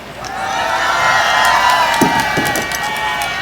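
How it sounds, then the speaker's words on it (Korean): A street rally crowd of resigned medical residents breaks into sustained applause and cheering, rising quickly and holding loud and close, with a few shouts standing out near the middle. "다시 한번 큰 박수 부탁드리겠습니다."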